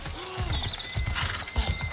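Horse hooves clip-clop at a gallop as a rider charges through a market in Assassin's Creed Odyssey, with steady rhythmic thuds, a whinny, and game ambience close by.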